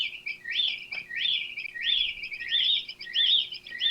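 A library sound effect of a bird tweeting, a rapid repeating series of high, bright chirps in regular bursts, close and clear against a quiet background.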